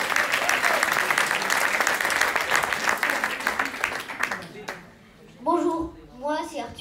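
An audience applauds loudly at a young people's accordion meeting, dense clapping for about four seconds that drops away, followed by a young person speaking alone.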